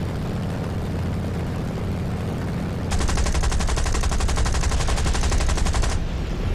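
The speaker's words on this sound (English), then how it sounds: "Trying to line up for a strafing run over here." Rapid, steady machine-gun fire from a propeller aircraft on a strafing run in the War Thunder VR flight game, a loud dense burst of about three seconds that cuts in over the constant engine drone and then stops.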